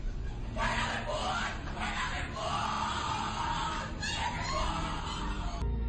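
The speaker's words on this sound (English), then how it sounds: "What you're hearing is the first recording ever made of the Skull and Bones initiation ceremony." Skull and Bones initiation ceremony recording: muffled, distant yelling and shouting voices through a hissy, low-fidelity background, continuous for several seconds.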